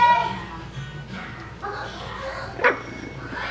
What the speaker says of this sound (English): puppies are getting playful.